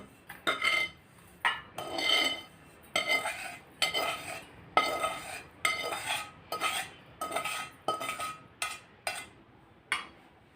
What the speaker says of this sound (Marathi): आता या भांड्यात हे सगळं एकत्र करून घेऊ